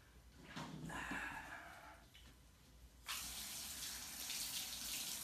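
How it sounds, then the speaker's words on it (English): Tap water runs while goldendoodle dogs' icy paws are washed after snow, quiet and intermittent at first, then a steadier, brighter gush of water in the second half. "Cleaning doodle dogs after the snow."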